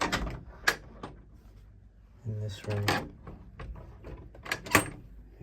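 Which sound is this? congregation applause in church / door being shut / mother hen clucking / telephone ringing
door being shut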